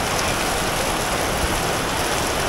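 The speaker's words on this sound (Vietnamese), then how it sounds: "Mưa rất lớn." Heavy monsoon-season rain pours down in Nha Trang, Vietnam, a dense, loud, unbroken hiss of water hitting the street, steady and close throughout.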